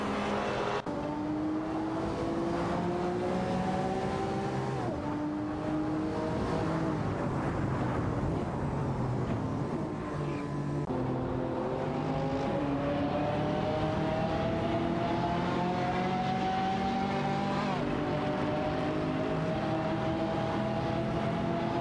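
Ferrari and Maserati race cars in a video game race, engines droning and shifting through gears with repeated rising pitch sweeps, a steady mechanical roar throughout with no talking.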